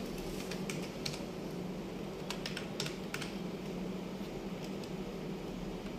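Soft, faint computer keyboard clicks in short scattered runs over a steady hum of room noise, like a fan or air conditioning, as a search is typed into Google.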